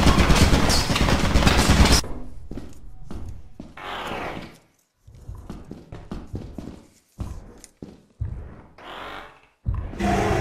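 Turret in the game Lethal Company firing in a dense, loud burst of rapid shots for about two seconds, then giving way to scattered clicks, thumps and short noisy bursts with gaps of near silence.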